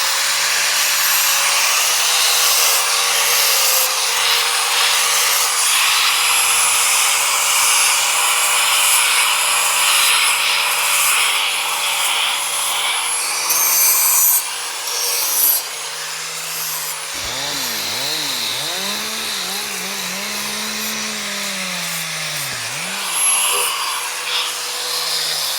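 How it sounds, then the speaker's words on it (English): Angle grinder fitted with a small flap disc cleaning up the edges of timber, a loud sustained whine with gritty rubbing that continues throughout, the pitch wavering and dipping as the disc bites into the wood. "We just have a small flap disc, nothing special, on a grinder."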